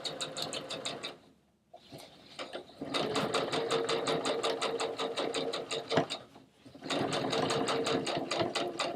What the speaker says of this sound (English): I can use my serger and reserge the edge